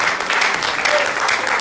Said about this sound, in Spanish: Denle un aplauso al que vive y reina para siempre.